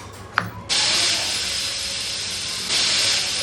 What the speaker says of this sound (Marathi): तुम्ही बघू शकता इथे कुकरच्या शिट्ट्या होत आहेत